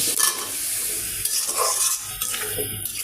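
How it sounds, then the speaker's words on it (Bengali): Potatoes hit a pan of sautéed garlic, onion and cumin paste with a little water, giving a steady wet sizzle with scraping and stirring clatter throughout. "মশলাটা কষানো শেষ এবার আলু দিয়ে দিব আলুগুলো আগে দিয়ে দিচ্ছি"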